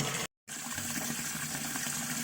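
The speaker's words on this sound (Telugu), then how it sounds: "ఇంకా దీంట్లో నీళ్ళు పడతాను" Water gushes steadily into a container in a home garden while preparing plant fertilizer, a continuous close pouring rush broken by a brief dropout near the start, with no voices.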